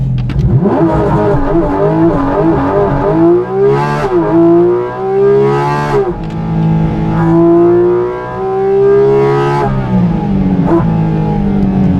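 A supercar engine revving hard to around 9000 rpm, heard from the cabin: loud sustained howling pulls that climb in pitch, drop briefly and rise again several times, with no talk over them.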